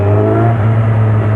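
A Kawasaki Z900 motorcycle with a 1000 cc, 125 horsepower engine runs steadily at high revs, a loud sustained drone heard from close up with no voices.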